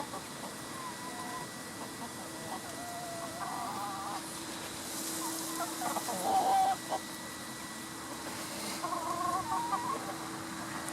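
Chickens cluck softly and intermittently nearby, with a few louder calls standing out against a quiet outdoor background.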